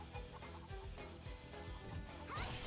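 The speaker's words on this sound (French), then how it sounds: "Laissez les poules tranquilles." Chickens cluck amid dense video game battle noise in Hyrule Warriors, with clashing hits, crashes and busy music layered loudly over the fowl.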